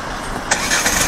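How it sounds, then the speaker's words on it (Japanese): A Mercedes-Benz engine starts remotely from a smartphone: a sharp click-like burst, then a steady, moderately loud rumble from the parked car close by, with no talk. "エンジンがかかりました。"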